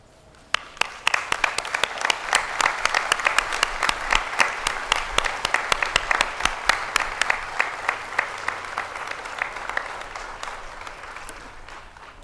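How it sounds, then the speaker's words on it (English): Sustained standing ovation from a large audience at a college commencement ceremony, dense steady clapping that swells quickly and holds for several seconds before tapering off near the end. "can we take a moment and stand up if you can and give our biggest supporters the standing ovation that they truly deserve?"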